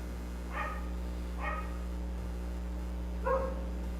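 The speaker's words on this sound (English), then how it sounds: "They bark less when they're outside." Dogs bark indoors three times, short and somewhat distant, spaced apart over a steady low electrical hum.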